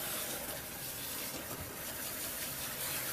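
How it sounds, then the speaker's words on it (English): Spa-treatment rinse with a water sprayer washing suds away, a dense, even rushing hiss held at a steady close level for the whole stretch, with no voices. "my water apparatus to move those suds away"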